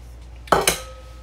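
Two quick metallic clanks as 6-inch cake pans are set down and handled, close and sharp, each ringing briefly before fading in a quiet kitchen.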